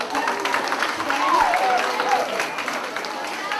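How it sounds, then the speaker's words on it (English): Audience applauding students at a sixth grade academic assembly in a school, with broad steady clapping across the clip and a few voices calling out over it. "one round of applause for our students"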